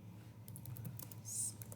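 Keys clatter on a computer keyboard in a brief, quiet burst of taps, close by with no talking.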